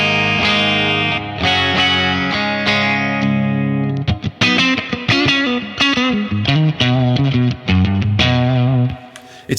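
Clean electric guitar with lots of headroom through a small amp rig, with a touch of grit at the edges: sustained ringing chords at first, then a run of plucked notes and quick strums, loud and alone.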